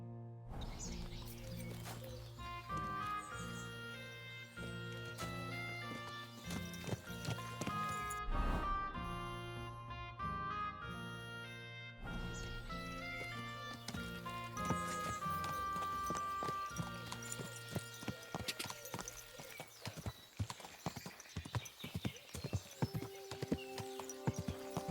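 Horse hooves clip-clopping with an occasional neigh in the Kingdom Come Deliverance 2 video game, set under a loud, continuous music score throughout.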